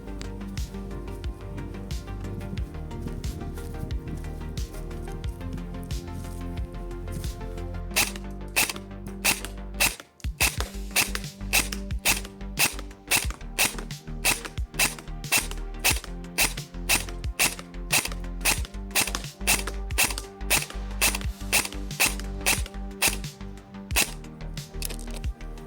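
Airsoft BBs strike a metal mesh face mask in rapid sharp cracks, sparse at first and then a dense rhythmic volley of loud snapping hits over a low mechanical hum.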